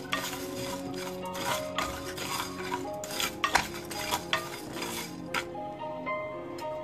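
Coconut and coriander seeds fried and stirred in a pan for a Smartha Brahmin ridge gourd kootu: a soft sizzle under repeated scraping and clinking of a metal spoon against the pan, fading toward the end.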